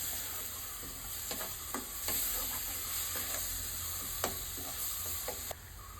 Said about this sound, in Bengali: জিরে সর্ষে বাটা, দিয়ে কষিয়ে নিলাম।